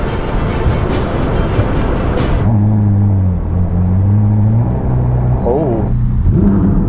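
A Ferrari SF90 supercar fires up early in the morning: a whirring electric-sounding start gives way to a steady deep idle with a loud low rumble, ending in a brief rising rev, while someone talks over it.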